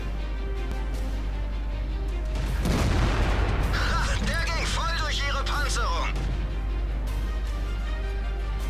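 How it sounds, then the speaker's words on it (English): Tank gun firing in World of Tanks, a single heavy boom followed by rumbling and whistling game effects, with someone talking over the game sounds. "here's the first tank that's gonna take a hit from this gun, and this is a smaller gun"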